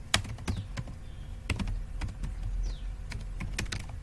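Computer keyboard typing with irregular clicks and a few sharper key strikes over a low steady background hum, close and alone.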